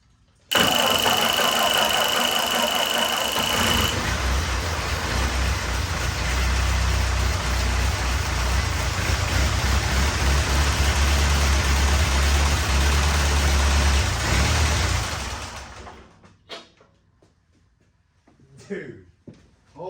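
An abandoned 1949 Ford 8N tractor engine, run after sitting for years, starts abruptly and runs loud and steady for about fifteen seconds before shutting off, leaving quiet with brief voices at the end.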